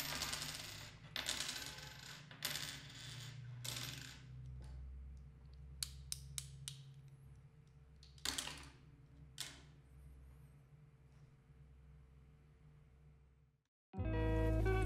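Coins drop and clink one after another onto a hard surface in a quiet room, recorded through a RODE Procaster microphone, with a low background hum and a louder noise at the end.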